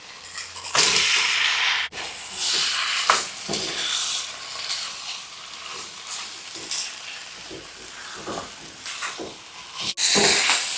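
Chicken fries in oil with a garlic, shallot and turmeric spice paste, a loud continuous sizzle broken by scraping stirs and occasional sharper pops.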